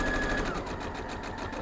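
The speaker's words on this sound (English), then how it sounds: "let's head over to the sewing machine" A sewing machine stitches through quilt fabric for a jelly roll table runner, a steady close hum with a rapid repetitive needle rhythm throughout.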